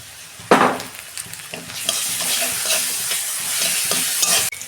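Garlic added to onions frying in a pan: a metal clatter, then a loud, close sizzle swells and stays bright and hissing, with occasional light scrapes of a spoon and no talking.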